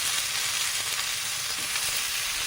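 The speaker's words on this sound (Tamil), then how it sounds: "வெங்காயம் நல்லா வதங்கட்டும்." Onions and tomato fry in a pan for a Tamil egg kulambu, a steady, even sizzle and crackle that holds at the same level throughout with no talking.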